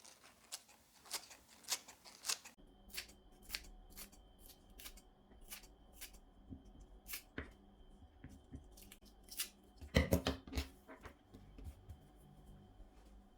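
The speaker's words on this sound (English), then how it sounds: "take a pair of scissors and cut them thinly." Scissors cut rolled turmeric leaves thinly, quick snipping and crisp cutting sounds close by, coming in short irregular bursts with brief pauses, a denser flurry near the end.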